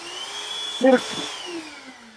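A Bosch GAS 18V-10L cordless vacuum cleaner runs with a steady whine throughout, rising briefly in a louder burst near the middle before settling back to a constant hum.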